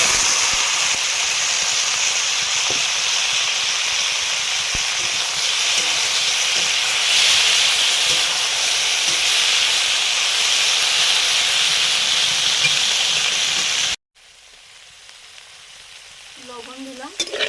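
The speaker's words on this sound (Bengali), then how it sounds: "সিমগুলো ভাজা করবো। সরষের তেল দিয়ে কালো জিরে দিলাম।" Steamed flat beans hit hot mustard oil with black cumin seeds in a pan, giving a loud, continuous sizzling hiss with small stirring knocks, then cutting off abruptly near the end into quiet.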